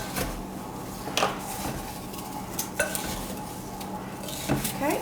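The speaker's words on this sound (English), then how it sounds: "Yours will be easier to stir once you get your apples in." Apple pie filling is stirred in a bowl, a steady scraping swirl with occasional clinks of the spoon against the side, close and moderately quiet with no talking.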